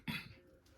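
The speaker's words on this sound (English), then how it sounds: "I gave a cough." A single short, faint cough from one person, a quick burst that fades within half a second.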